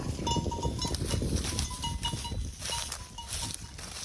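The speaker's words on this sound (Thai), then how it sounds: "นี่เด้งงัว" A cowbell hanging on a cow clanks in repeated light, ringing knocks as the animal moves, heard close up over rustling and general farmyard noise.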